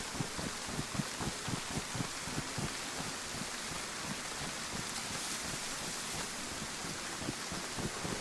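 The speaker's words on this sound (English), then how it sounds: "At least the rain hasn't been as intense as it was on Saturday." Rain falls in the video game DayZ as a steady broadband hiss, with soft, regular low thumps pulsing beneath it, like footsteps, over the first half; fairly quiet and continuous, with no talk.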